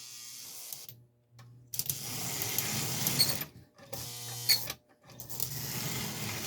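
An old Lionel model train motor whirs in short bursts, stopping and starting several times with a buzzing, mechanical hum close by, and no talking over it.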